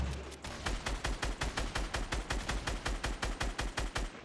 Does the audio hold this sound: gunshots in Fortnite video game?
yes